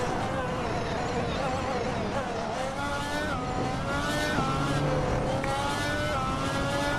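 A Toyota 86 racing in a video game, its engine droning loud and steady with rising and falling revs as it speeds along, with a person talking over it.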